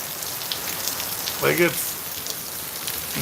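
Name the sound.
rain falling outdoors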